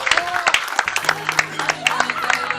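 Parents clap at a school awards ceremony at a private school in Roy, the scattered sharp claps sounding close under a voice speaking over them.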